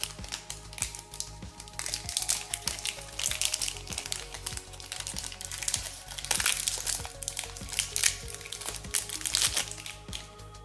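Steady, close crinkling and rustling of plastic wrapping as a small chocolate reindeer is unwrapped, with many small crackles continuing throughout.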